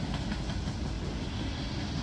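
A freight train with an AC44C6M locomotive trailing rolls past close by, giving a continuous rumble with wheel clatter and no voices.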